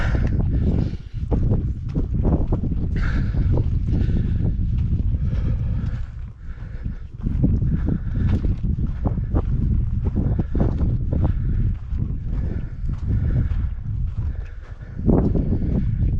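Strong wind buffets the microphone out on the White Bluffs sand dunes in Washington's Scablands, a loud, continuous low rumble with gusty swells and brief dips, no voices heard.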